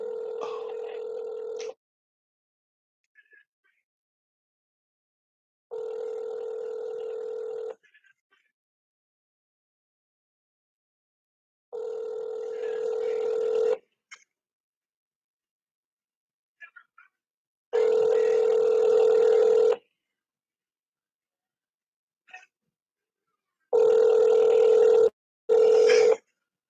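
A phone call rings out on the line, repeated ringback tones in steady bursts about every few seconds with gaps between, clear and close with no talking over them.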